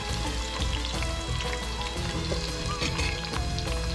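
A batch of onions fries in olive oil for mujaddara, producing a dense, even, rain-like sizzle that stays loud and constant with scattered sharp crackles.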